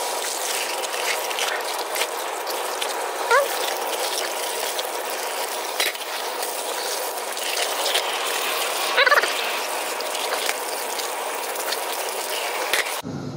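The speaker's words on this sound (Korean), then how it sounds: "요거를 흐르는 물에 씻어줍니다." Home-cured guanciale being rinsed under a running kitchen tap, a steady close hiss of flowing water with a few faint clicks and knocks of handling, and no talk.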